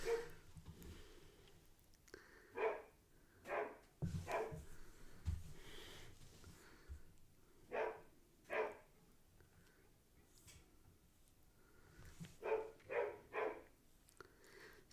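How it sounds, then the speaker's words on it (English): A dog barks in repeated short bursts with gaps between them, some coming quickly in clusters, fairly close but modest in level, with breathy snorts in between and no talk. "Oh my gosh, the dog."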